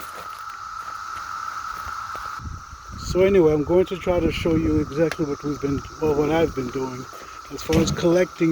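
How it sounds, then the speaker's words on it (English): Cicadas drone steadily in the background of an outdoor mustard greens garden, a constant high buzz under someone speaking close to the microphone. "the noise you hear in the background, they're called cicadas."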